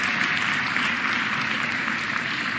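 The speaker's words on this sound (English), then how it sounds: "Let's give him a huge, huge round of applause." Audience applause at a state address honoring Pennsylvania's Josh Shapiro, a continuous wash of clapping heard at moderate level throughout the short stretch.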